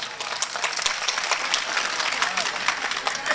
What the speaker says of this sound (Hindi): टीपू सुल्तान रहमतुल्लाह अलैह के नाम पर एक मरतबा पुरजोर तालियाँ बजा दें।